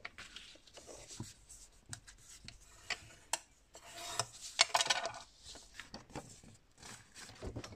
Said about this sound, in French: on vient faire un pli à 1 cm de chaque bord